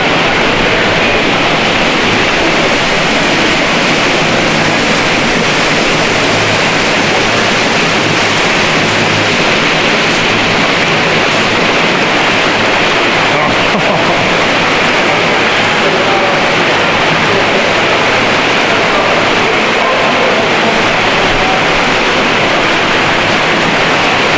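Trophy brown trout thrash and churn the surface of a spring-fed hatchery pond at Coursey Springs in Bath County, Virginia, making a dense, steady rush of splashing water that holds evenly for the whole stretch with no pauses.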